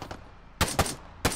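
Gunfire in the military shooter game Arma 3, with a faint shot followed by three sharp, loud rifle cracks, two in quick succession and a third after a short pause.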